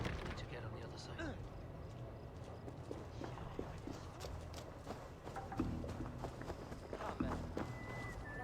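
Horses' hooves clip-clop at a steady walking or trotting pace in a Danish-era war drama setting, mid-distance and continuous, mixed with ambient rustle and faint voices.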